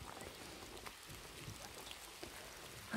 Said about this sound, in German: Der Regen wird nicht besser.